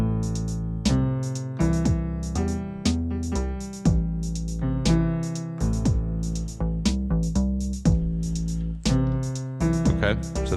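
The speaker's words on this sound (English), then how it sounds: "I'm going to record a piano note." A piano chord progression played on an Ableton Move, with sustained chords and layered notes sounding in a steady rhythm, with no talk over them.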